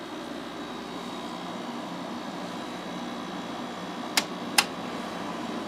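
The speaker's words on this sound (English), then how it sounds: "The sound of this compressor becomes a little bit more noticeable over time" A Sanyo compressor in a WCI window air conditioner hums steadily at moderate level as a constant broadband drone, interrupted near the end by two sharp clicks.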